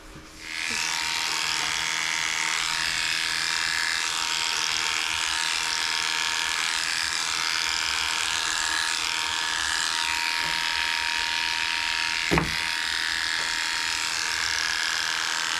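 Electric dog grooming clippers trimming the fur of a poodle x shih tzu, a steady high-pitched motor buzz that starts abruptly and runs continuously, with one brief louder click near the end.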